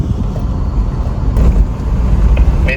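A car speeds through a jungle at night in Jim Corbett, its engine and road rumble loud and steady throughout, with a couple of faint knocks near the end.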